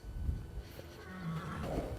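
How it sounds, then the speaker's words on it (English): Rico, a Dutch warmblood horse in a stall, gives a faint, breathy whinny amid low rustling and shuffling, quiet and somewhat distant with no talking. "Rico is this beautiful horse that's in this stall right here"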